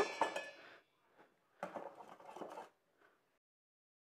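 A spoon stirs a sweetened mango ice cream mixture thickening in a pot on the stove, giving two short, quiet bursts of scraping and clinking separated by silence.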